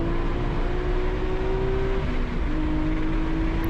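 Race car lapping Buttonwillow circuit at full pace, engine droning steadily with a clear held tone that shifts pitch slightly, continuous and loud with wind rush, no talking.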